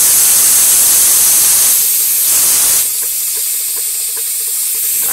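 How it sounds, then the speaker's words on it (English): A badly leaking fire hose gives a steady, loud broadband hiss at close range during VW engine valve-spring work, easing slightly partway through and continuing alone with faint clicks. "fire hose is leaking pretty bad."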